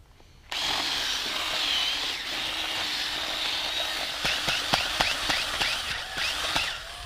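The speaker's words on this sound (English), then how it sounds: "The purpose of the drill is to break up what's left of the post down in the hole into little bits." A power drill grinds steadily for several seconds, loud and close, with sharp knocking impacts toward the end as it breaks up the remains of a concrete fence post in a post hole.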